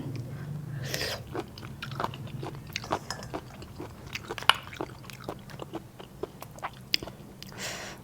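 Close, crisp crunching and biting while eating spicy paddy snail salad with bitter gourd, a steady run of sharp crunches with small chewing sounds between them and no talk.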